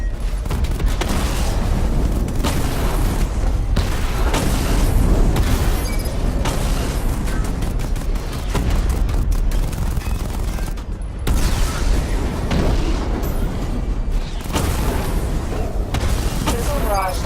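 Rapid, loud volleys of missile explosions from the Batmobile's secondary weapon barrage in Batman Arkham Knight, booming blasts fired in dense bursts with brief gaps between them.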